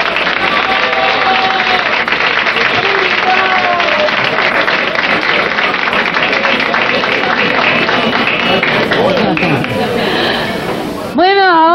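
A TV studio audience applauds on a 1988 Cuban television show, clapping mixed under loud music and voices for most of the stretch, with a brief shift near the end.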